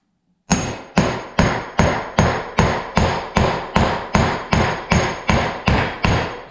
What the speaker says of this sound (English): This is just a 16-ounce hammer.